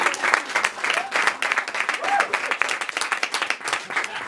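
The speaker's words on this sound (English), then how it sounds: "And you have to clap." An audience at a stand-up comedy show claps in a broad, uneven wave that swells and dips, with a few voices and cheers mixed in.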